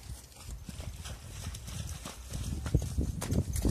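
Pony hooves clip-clopping steadily in a riding lesson, the rhythmic thuds growing a little louder as the animal nears, with a faint voice in the background.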